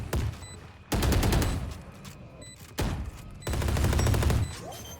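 Gunfire in the video game Valorant, with loud bursts of rapid automatic shots coming in several separate volleys and short pauses between them.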